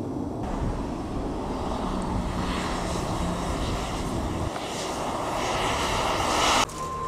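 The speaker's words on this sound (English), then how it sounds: "on that plane there, arriving from Seattle. What a spectacular flight in." An airplane arriving from Seattle flies in to land with a steady, broad engine roar that holds throughout, mixed with wind buffeting on the microphone.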